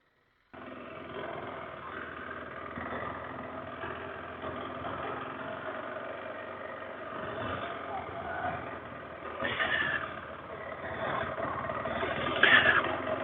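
A KTM 390 Adventure single-cylinder motorcycle engine chugs along at slow speed with a steady, slightly lumpy thrum that continues throughout, swelling a little louder toward the end.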